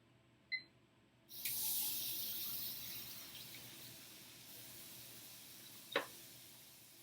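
A school sink tap is turned on for handwashing, water rushing steadily from about a second in and gradually softening, with a brief click before and a sharp knock near the end.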